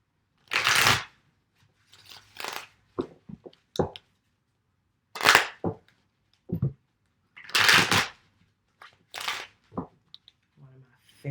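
Tarot cards of the Orishas being shuffled in loud, crisp riffling bursts that recur every couple of seconds, with quieter card taps and flicks in between; no one speaks.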